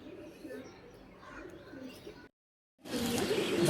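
Pigeons kept in a loft give soft, low cooing mixed with rustling, fading to silence briefly before a louder burst of noise closes the stretch.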